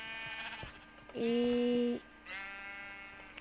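A sheep in the game Minecraft gives a loud, steady bleat lasting under a second, while people talk lightly around it and other game sounds continue.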